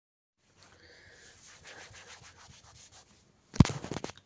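A transparent plastic desk protector mat is wiped clean at close range: soft, uneven rubbing and scratching strokes, then a sudden louder scrape near the end.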